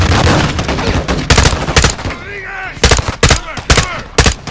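Gunfire in the Call of Duty Modern Warfare II campaign on PS5: loud bursts of rapid shots and heavy bangs across the clip, with a pause in the middle where a high whine and some background chatter come through.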